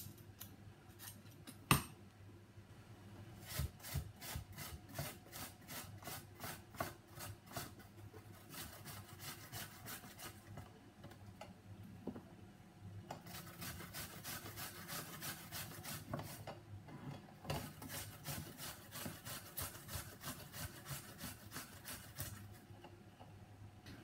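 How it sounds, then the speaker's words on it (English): Apples are grated by hand in a kitchen, quiet close rasping strokes in steady rhythmic runs separated by brief pauses, with a single sharp knock near the start and no talking. "peel and grate my apples"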